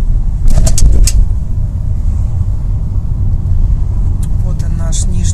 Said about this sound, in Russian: Ну, очень много машин.